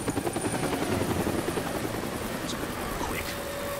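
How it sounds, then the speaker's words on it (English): A helicopter chases in the Xbox 360 video game Deadlight, a loud pulsing rotor thump that is strongest at first and then settles into a steadier drone. "That's the helicopter chasing my friends."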